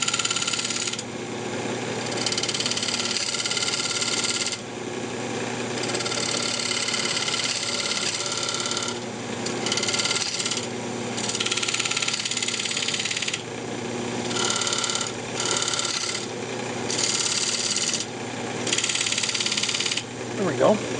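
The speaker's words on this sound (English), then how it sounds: "I'm just going to use a fingernail gouge" A fingernail gouge cutting purpleheart wood spinning on a lathe, heard as a steady rough scraping and whirring that swells and eases in passes over a continuous motor hum.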